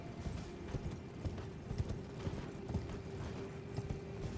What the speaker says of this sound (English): Alright, let's get on our horse here. Let's take Torrent back down.